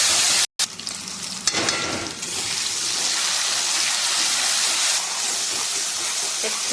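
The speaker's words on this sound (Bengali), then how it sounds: "একটুখানি মশলাটা কষিয়ে নিলাম" A spice paste sautés in a pan for a Bengali home-cooked dish, starting with a clatter and then settling into a loud, continuous hiss of frying that lasts to the end.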